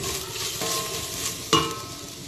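Onions sauté in a hot pan as ground masala goes in for a chicken pepper rasam, giving a steady loud sizzle broken by a couple of sharp stirring scrapes and utensil knocks, with no voices.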